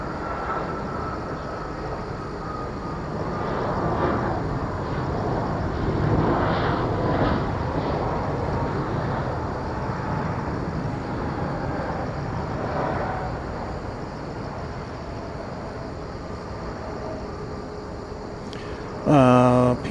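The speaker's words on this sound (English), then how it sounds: "Peach is arriving from Osaka in Japan." A Peach Aviation budget airliner from Osaka arriving at Incheon airport, a distant, steady broad jet roar that swells and fades slowly, heard from an outdoor spotting position.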